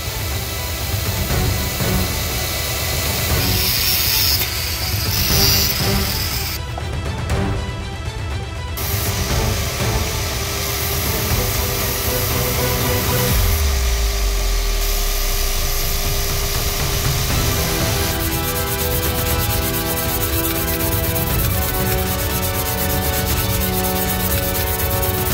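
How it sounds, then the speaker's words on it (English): Hand profiling the counterweight of a 150cc four-stroke race engine crank with abrasive: continuous, loud, close rasping and rubbing strokes that run unbroken, with shifts in pitch and texture as the work progresses. "I'm gonna have a quick go at profiling this weight and see what it looks like."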